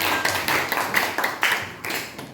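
A classroom of students claps for a student group after its presentation, the claps scattered and uneven, with sharp individual hand strikes standing out over a brief, moderately loud burst.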